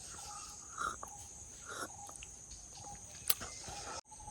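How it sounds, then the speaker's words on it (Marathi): A quiet, cold night at a forest campsite with a steady high insect drone and a few short, scattered bird calls, faint and some distance away. "पक्ष्यांचा आवाज बघा"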